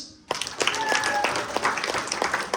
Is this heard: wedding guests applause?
yes